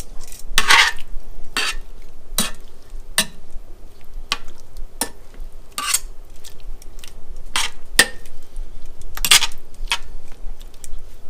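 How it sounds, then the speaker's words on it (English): A utensil stirs ginger lime beef in a pan with a series of sharp metallic scrapes and clinks at irregular intervals. Faint sizzling runs underneath. "Give that a stir."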